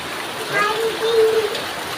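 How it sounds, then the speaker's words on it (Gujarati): Steady wash of heavy village rain in Banaskantha under a short burst of voices, including what sounds like someone speaking close by. "તમે જોઈ શકો છો કે કેવો વરસાદ પડે છે।"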